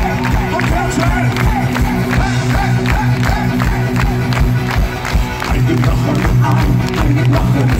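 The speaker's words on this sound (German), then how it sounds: "bitte alle Hände nach oben und klatschen!" A concert crowd at a live pop show in Berlin clapping along in a steady rhythm and cheering, loud and dense, with music playing underneath and shouts rising from the audience throughout.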